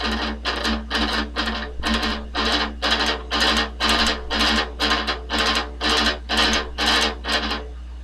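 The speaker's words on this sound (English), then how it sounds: "in metal you hear a lot of what I like to call triplets," Palm-muted metal guitar riff played with fast alternate picking in triplet groups, a steady chugging pulse of about fourteen even bursts, loud and distorted, alone without talk.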